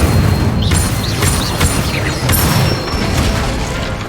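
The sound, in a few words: Incendio fire spell cast in a Harry Potter video game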